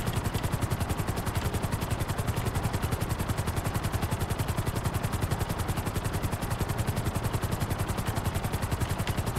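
Helicopter in GTA Online during the Cayo Perico heist: a steady, loud, rapid rotor thump with a continuous engine drone, unbroken and alone for the whole stretch.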